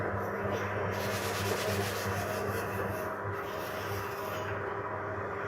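A cloth steadily rubs WD-40 into the metal of a garden tool, a continuous close scrubbing and swishing sound with no speech over it.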